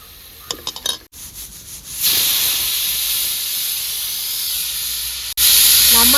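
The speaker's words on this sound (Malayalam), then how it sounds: "ഇനി ഇച്ചിരി ചൂടുവെള്ളം കൂടി ഒഴിച്ച് ആടി അടച്ചു വയ്ക്കും" Hot water poured into a pan of frying beef sets off a loud, sustained steam hiss lasting several seconds after a few brief clatters, then a sudden renewed burst of sizzling at the end.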